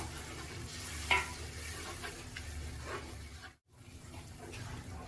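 Chopped tomatoes dropped into frying masala in a pan for mutton biryani, a steady close sizzle with stirring scrapes, a brief louder burst early on and a short silent gap near the end.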